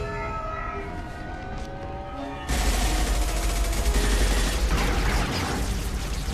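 Dense, loud gunfire from the sci-fi video game Mass Effect 2 bursts in as a continuous roar partway through, following a few seconds of steady wailing, siren-like tones, and it keeps up without pause to the end.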